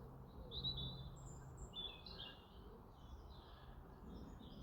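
Woodland birds chirp in short high tweets scattered through the clip, fairly faint over a low outdoor rumble, with no talking.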